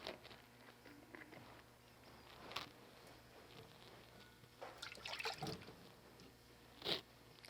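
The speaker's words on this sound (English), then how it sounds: "So we're going to add water to her hair and start detangling." Water poured from a bowl onto a child's medium curly hair at home, heard as a faint, intermittent trickle and splash with soft wet squishing against quiet room noise.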